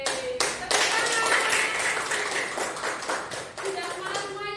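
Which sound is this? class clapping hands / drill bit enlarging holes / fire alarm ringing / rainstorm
class clapping hands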